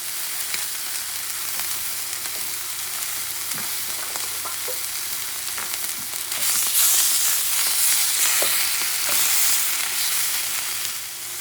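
Thick tortilla frying in a hot pan, a steady close sizzle and crackle that swells louder partway through, with no talk.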